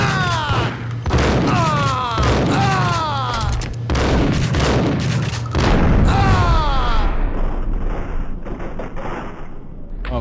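Max Payne video game gunfire: repeated booming shots and bursts pound for several seconds, loud and near, mixed with shouting voices and other game sounds.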